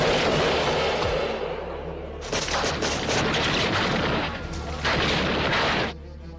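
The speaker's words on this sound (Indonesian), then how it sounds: "Tanpa buang waktu, Thomas langsung melepaskan tembakan" Heavy gunfire and booming blasts from a sniper war film scene. The bursts are dense and loud, swell in waves, and form a continuous barrage with a low rumble running underneath.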